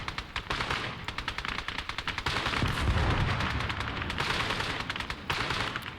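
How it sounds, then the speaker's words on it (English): Gunfire in Call to Arms: Cold War Gone Hot during a USSR versus China woodland battle, dense rapid machine-gun bursts with overlapping shots and a louder rumbling volley midway, continuous and loud without speech. "We are being shot at."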